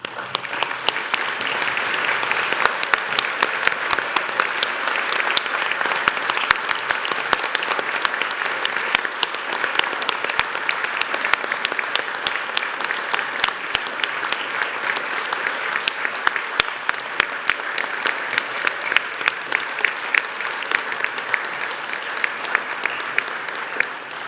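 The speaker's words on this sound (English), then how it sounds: "join me in applauding the wonderful achievement of our graduates" A large audience at a University of Newcastle (Australia) graduation ceremony applauds the graduates, a dense, steady roar of clapping that holds at full strength for the whole stretch with no voices over it.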